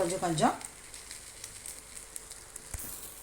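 An egg and carrot omelette frying in a little oil in a pan, a soft, faint sizzle that carries on steadily after a brief burst of a voice at the start.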